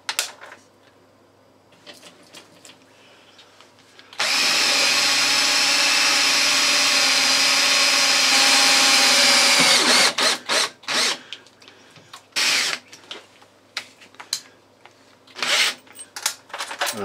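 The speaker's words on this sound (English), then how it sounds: "with the centre drill go in and mark the other hole" A centre drill marking a hole in metal gives a steady high-pitched drilling whine for several seconds, then breaks into short bursts of machine noise and clatter.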